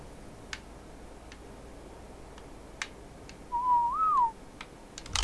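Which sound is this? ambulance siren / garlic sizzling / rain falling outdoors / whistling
whistling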